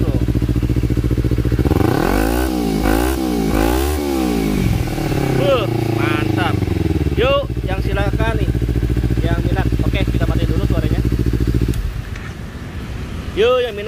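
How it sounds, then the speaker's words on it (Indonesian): A Kawasaki Ninja 250 motorcycle with its original exhaust revs loudly in several sharp bursts, then settles into a steady rumbling idle with chatter over it. "Kita geber dulu suaranya nih bro."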